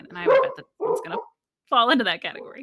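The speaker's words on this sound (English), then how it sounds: "Sorry if you heard a dog barking." A dog barks in the background while a person keeps talking over it, the barks partly buried under the speech.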